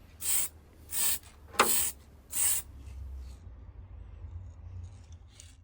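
Four short, sharp hisses of spray paint on a Ferrari 250 GTO model car body come in an even rhythm, close and bright, then fade to a quiet low hum.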